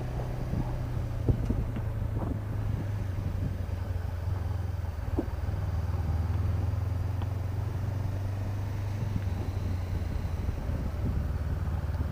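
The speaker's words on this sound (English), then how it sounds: "It's getting a bit breezy again." Wind buffets the microphone while a motorcycle rides a mountain road in Gran Canaria, with a steady low engine drone and continuous rushing wind noise and no talking.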